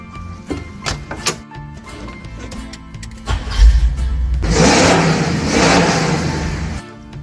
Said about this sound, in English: making my custom dual exhaust easy with the Flowmaster U-Fit Dual Kit. Sounds great.